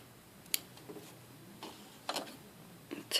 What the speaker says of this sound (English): going to cut the thread